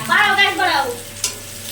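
An egg fries in a pan with a soft, steady sizzle, close by. A short voiced sound rises over it at the start, then the sizzle continues with one brief spatter.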